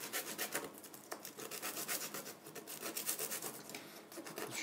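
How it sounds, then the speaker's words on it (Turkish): Steady dry rasping of sandpaper rubbed back and forth over a glued wooden model airplane fuselage part, continuous close strokes with quick repeated bursts and no talking. "zımparadan geçiriyoruz"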